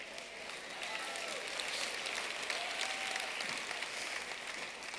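A church audience claps together in response during a sermon, a steady, moderately loud sustained patter of many hands with faint voices mixed in.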